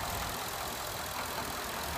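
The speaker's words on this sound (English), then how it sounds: "this beautiful five liter V8 engine" A steady, rumbling five-liter V8 engine of a 2014 Ford F-150 truck idling nearby, an even continuous drone with no change in pace.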